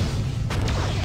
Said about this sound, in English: Wow, it can fire loads of photons.